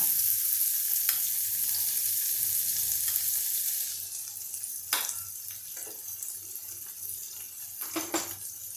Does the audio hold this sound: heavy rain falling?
no